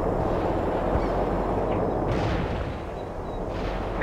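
Heavy, continuous rumbling bombardment of artillery fire from World in Conflict rolls on with deep booms and layered blasts, with a faint honk-like tone on top.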